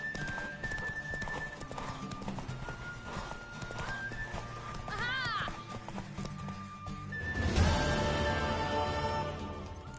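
Horse hooves clip-clop with a neigh in The Witcher 3 on PS5, set under game music and ambience that swell near the end, while voices talk over it.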